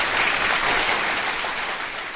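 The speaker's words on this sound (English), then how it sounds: "Big round of applause for that as well." A studio audience breaks into a round of applause on a live dating-advice show, steady close clapping filling the whole stretch with no talk over it.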